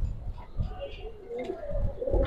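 A male pigeon held in the hand gives low, throaty coos in rising and falling waves, close by, with human voices mixed in underneath.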